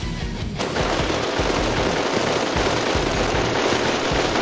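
Sustained machine-gun fire in a war film, a loud, dense, rapid burst of shots rattling continuously and close, with no speech over it.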